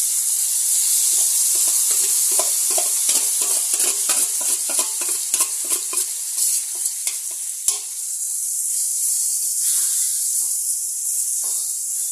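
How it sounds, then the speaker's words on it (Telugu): Cucumber pieces hit oil heated until dark and fry in a pan with a bright, continuous sizzle and hiss, dense crackling pops at first that thin out as the frying settles. "నూనె నల్లగా అయింది. దోసకాయ ముక్కలు వేసుకోవాలి."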